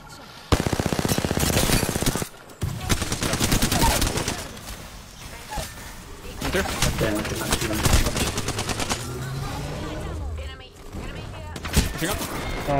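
Rapid bursts of video game gunfire in a multiplayer shooter match, loud sustained automatic fire with short gaps and scattered single shots across the whole span, with some talk mixed in.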